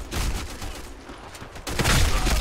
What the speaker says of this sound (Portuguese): Essa rajada dessa arma é muito OP